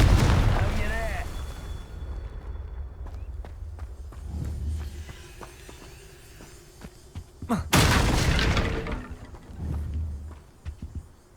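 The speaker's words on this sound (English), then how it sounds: "Revelio. Confringo. Not so tricky after all, Merlin." In Hogwarts Legacy, Confringo blasting spells go off as loud booming explosions, one at the start and a heavier burst near the end, with footsteps and game effects in between.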